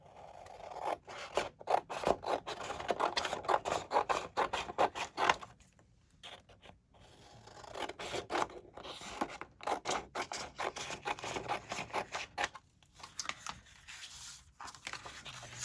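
Scissors snipping through patterned paper during a paper menorah craft, a steady run of crisp close cuts in quick rhythm, briefly pausing midway before the snipping resumes.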